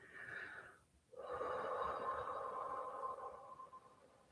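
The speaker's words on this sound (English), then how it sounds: "A big exhale from the belly." A long, deep belly exhale, released as a single breathy rush after a brief pause, with an airy, slightly wheezing texture and fairly loud and close.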